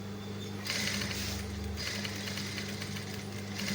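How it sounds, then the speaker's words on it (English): Sewing machine stitching fabric for cufflinks, a steady close mechanical whirr with a low motor drone that rises into a faster, louder run partway through, then continues at a steady pace without talk. "This is where we started sewing."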